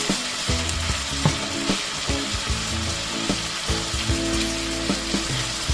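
Bitter melon (ampalaya) sizzles steadily in a hot pan after a splash of fish sauce and seasoning, a dense continuous frying hiss with occasional louder pops and light clinks, no talking.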